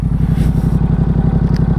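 A motorcycle fitted with a Van Diemen exhaust idles close by, a loud, deep, rapid pulsing burble with an even lumpy rhythm and no voices.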